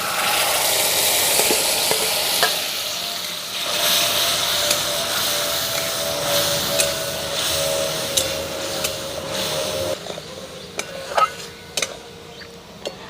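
Spice paste for Hyderabadi paneer masala sizzles and spatters in a hot pan, a steady hiss with scattered sharp ticks and utensil clicks as it is stirred, close and fairly loud.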